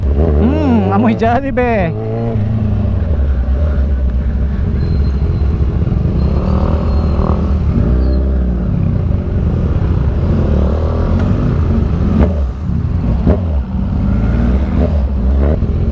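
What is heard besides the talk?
road traffic on Pandan Road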